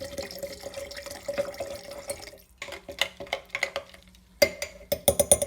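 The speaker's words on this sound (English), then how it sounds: "I'm mixing everything together and that's it." Homemade liqueur ingredients being mixed in a jar with water and about 400 ml of pure alcohol: liquid swirls, sloshes and drips in short uneven splashes that grow brisker toward the end.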